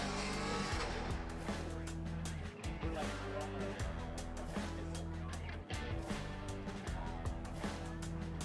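Drift race cars in a pro drift series shootout roar continuously with loud, sustained engine drone and tire squeal, layered under a loud announcer voice and crowd-level ambience.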